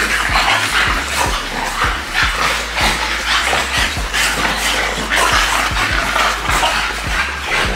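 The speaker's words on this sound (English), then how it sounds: "Dogs." French Bulldogs at a breeder's kennel bark, yip and whimper in a loud, continuous overlapping chorus close by, with no pause across the whole stretch.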